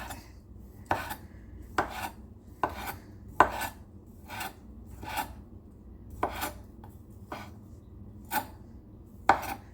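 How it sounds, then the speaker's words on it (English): A knife slicing fully cooked sausages into flat pieces on a cutting board, about a dozen crisp, evenly spaced chops sounding close and clear in a quiet kitchen. "these are fully cooked sausages. So I'm cutting them in a little flats"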